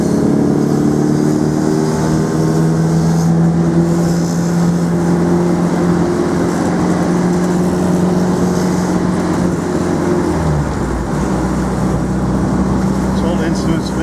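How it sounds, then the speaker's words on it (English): A 1950 MG TD two-door classic car engine runs roughly, a loud close idle with droning tones that shift and drop partway through, no talking. "Car making a horrible noise."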